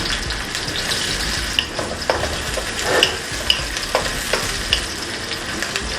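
Onion hits hot oil and fries with a loud, steady sizzle, broken by several distinct scraping stirs of a utensil in the pan.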